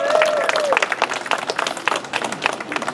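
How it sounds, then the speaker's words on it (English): Crowd at a groundbreaking for a new Roosevelt Island library branch claps in a dense, steady round of applause that swells and holds for a few seconds, with some voices mixed in. "Can we give them a round of applause?"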